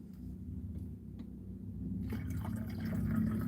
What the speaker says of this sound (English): Let's put more water in here.